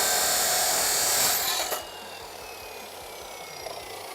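Metal pieces for a knife billet being deburred, a broad rasping scrape that runs steadily and stops abruptly partway through, followed by quieter workshop background.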